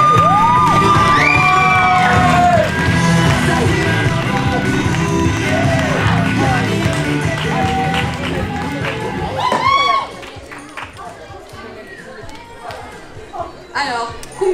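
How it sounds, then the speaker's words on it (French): Audience at a cosplay contest cheering and whooping loudly, with shouts and excited children's voices through the first ten seconds, then fading into quieter chatter and a host speaking. "Veuillez applaudir."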